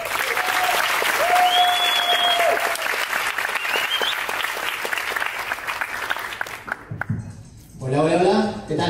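Loud applause with a few whistles and cheers greets a speaker at a company business event. It runs for about seven seconds, then the speaker starts talking.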